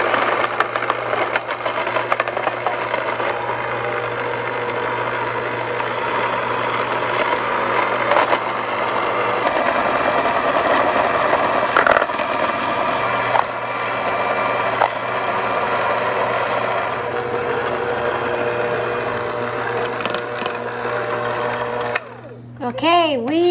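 An electric mixer whirs steadily through brown and white sugar for oatmeal cookie dough, a loud continuous motor drone lasting over twenty seconds with slight shifts in pitch before cutting off near the end.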